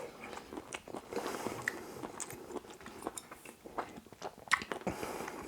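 Crunchy bites and chewing of stir-fried squid with baby sweet corn, several sharp crunches and wet mastication sounds in an irregular rhythm, close up and fairly quiet, with occasional cutlery clinks.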